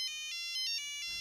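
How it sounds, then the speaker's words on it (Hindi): A telephone ringtone plays a bright repeating electronic melody of short tonal pulses, clear and fairly quiet with no talk over it. "उनका ही फोन है।"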